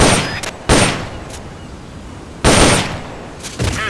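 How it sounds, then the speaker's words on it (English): Bursts of M16 assault rifle fire in Metal Gear Solid Peace Walker, two loud sharp volleys with decaying tails and a fainter shot between, set against a quiet background. "The M16's a standard assault rifle, capable of rapid fire."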